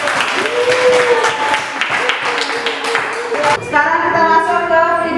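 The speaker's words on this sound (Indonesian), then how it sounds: "kasih aplaus dulu untuk" Applause in a classroom, with a short stretch of clapping from the students under a voice and background music, fairly loud and close, fading as the music carries on.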